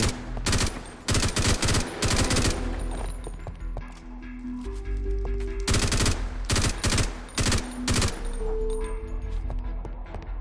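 Shotgun bursts from the Minecraft modpack Deceased Craft, loud rapid clusters of sharp blasts in several volleys, with mechanical clicks and tonal game sounds in the gaps between them.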